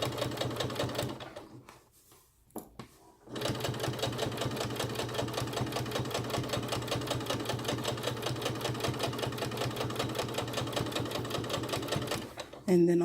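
A sewing machine running steadily as it stitches a drawstring backpack, a close, even rapid chatter that stops briefly near the start and then runs on for about ten seconds.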